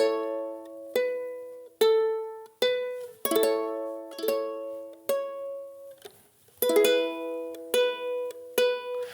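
A keyboard picks out the Mary Had a Little Lamb melody in clear, evenly spaced notes over sustained backing chords, close and clean with each note decaying before the next.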